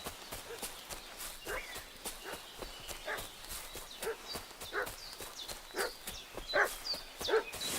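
A dog barks repeatedly in a medieval Bohemian village in Kingdom Come: Deliverance, sharp regular yaps mid-distance over horse hoof clip-clops and footsteps.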